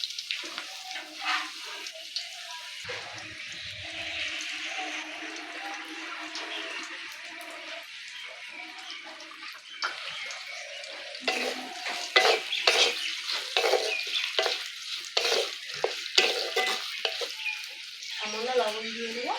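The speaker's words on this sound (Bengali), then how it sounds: "ফোড়নটা ভাজা হয়ে গেছে। এবার কুচনো পেঁয়াজগুলো দিয়ে দিচ্ছি।" Chopped onions fry in a pan while being stirred, with continuous sizzling, scraping and spatula knocks against the metal at close range. The intensity rises as the stirring picks up.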